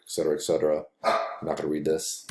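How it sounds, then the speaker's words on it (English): A dog barks in the background during a criminal justice lecture, short yips and bow-wows breaking in among the lecturer's steady talk. "Sorry for my dog barking in the background."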